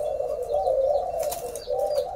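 Malay doves coo softly and continuously, close by, a steady mellow rolling call with faint wing or cage rustles in the background.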